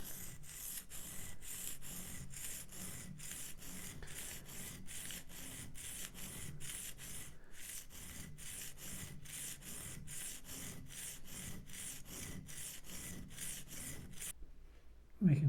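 A woodworking gouge is sharpened on a stone, its blade rotated at a steady bevel angle, giving rhythmic, evenly spaced gritty rubbing strokes. It runs close and continuous for about fourteen seconds, then stops abruptly.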